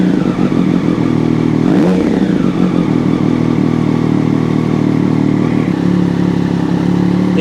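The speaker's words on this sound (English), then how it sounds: "So we go ahead and rev it a little bit." Triumph Daytona 765 engine revved up from idle and settling back, close and loud, with a quick rising and falling sweep followed by a steady throbbing idle.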